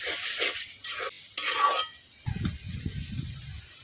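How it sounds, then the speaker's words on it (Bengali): Spice paste being stirred and sautéed in oil for a water lily (shapla) curry: scraping stirring strokes at first, then a steady low sizzle of frying paste, close and without talk. "ভালো করে মশলাটা একটু ভালো করে কষাইতে হবে"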